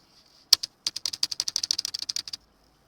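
Keys clacking on a computer keyboard as a network command is typed in a Cisco Packet Tracer session: one sharp strike, a short pause, then a quick even run of about fifteen close, crisp keystrokes that stop abruptly, with no talking.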